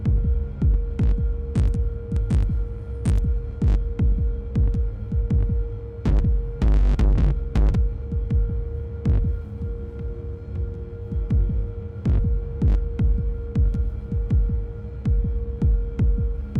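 A heavily saturated kick drum, driven through the Tangents saturation plugin, thumps in a steady pulse over a constant low hum, with sharp distorted transients and a brief dense burst midway.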